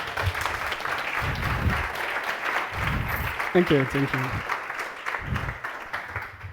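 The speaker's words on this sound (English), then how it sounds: "Another round, please." Conference audience at a Vue web development event gives a second round of applause, steady clapping throughout while a speaker's voice says thanks over it, with a few brief low thumps.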